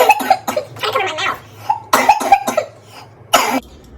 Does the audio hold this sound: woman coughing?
yes